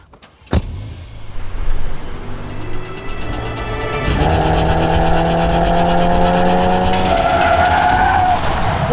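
A VW Golf 8 R driven hard on a track, its engine note climbing through a gear and then revving high and sustained with a strained, rising whine, loud and close from the cabin.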